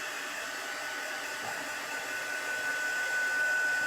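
A hair dryer runs steadily throughout, drying chalk paste on a craft project, a constant close whirring blow with no pauses and no talking.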